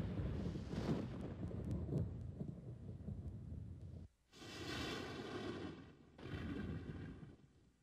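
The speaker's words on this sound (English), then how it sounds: "The evening before the test, a violent thunderstorm builds and breaks over Ground Zero." A violent thunderstorm over a desert test site: deep rolling thunder rumbles on and on, then breaks into heavy crackling claps after a short pause, loud and fairly close.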